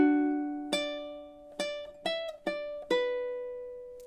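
Ukulele riff from Jimmy Buffett's Margaritaville, a handful of plucked notes and chords with ringing decays, played at a moderate tempo, soft and close, without voices.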